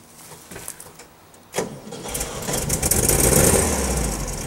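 A 1967 Volkswagen Beetle engine cranks with a few quiet rattles, catches with a sharp burst, then revs up into a loud, steady, buzzy running note close by.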